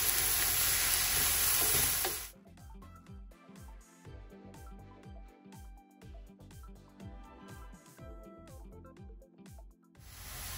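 Onion fries in hot oil in a pan while being stirred. A bright loud sizzle rises at first, then settles into repeated rhythmic scraping and stirring strokes over a steady frying hiss, close up with no talking.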